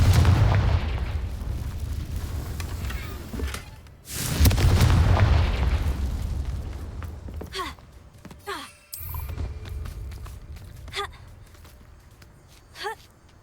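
Blasting-spell explosions in the game Hogwarts Legacy: deep booming blasts with rumbling decay, two big bursts followed by scattered sharper impacts and fading echoes, with spoken voices heard through the clip.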